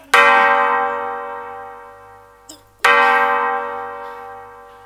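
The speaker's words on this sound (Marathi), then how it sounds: "ऐकलंस फक्त घंटेचा आवाज येतोय." Two loud bell strikes about three seconds apart, each ringing out in a long, slowly fading metallic tone, with a faint low hum underneath.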